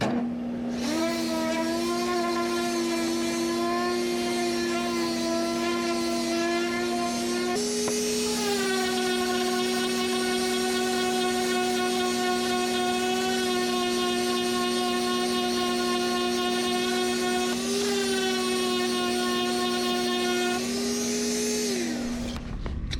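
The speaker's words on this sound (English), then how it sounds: "I should be able to get in there pretty good along that radius as we're sanding the panel." A power sander runs steadily on a raised wooden door panel for a stile and rail door, giving a loud, continuous motor whine whose pitch shifts slightly as pressure changes, with no talking.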